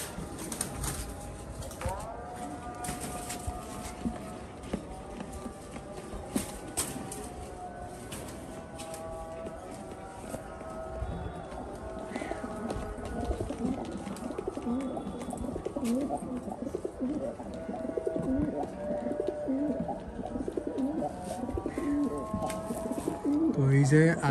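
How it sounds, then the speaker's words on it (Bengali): Pet pigeons coo in low, soft repeated calls while shuffling and fluttering nearby, with occasional wing flaps and indoor bumps; a person talks over them throughout. "এগুলো একটু অনেক আতঙ্ক টাইপের কবুতর।"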